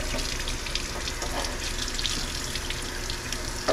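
Running water from a tap rinses a blue crab being cleaned for taxidermy, a steady close splashing flow with small shifting spatters and no talk.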